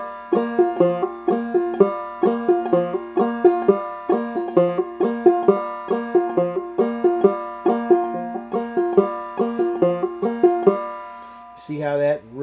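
A strummed dulcimer repeats a bright, steady pattern on the first and second strings with quick hammered accents, played alone, ending with a brief clatter.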